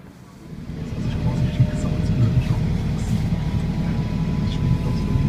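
A tractor pulls a cart loaded with wood toward the forest after a hose repair. It gives a steady, close, low engine rumble that swells in the first second and then holds even.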